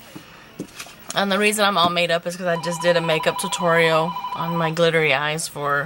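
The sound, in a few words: telephone ringing in the background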